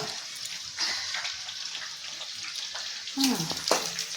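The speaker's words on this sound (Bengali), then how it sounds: "আর এদিকে আমার পেঁয়াজের বেরেস্তা আমি করে নিচ্ছি বন্ধুরা" Sliced onions frying into crisp birista in hot oil for chicken biryani, a soft steady sizzle with faint stirring and a brief clatter near the end, with no talk.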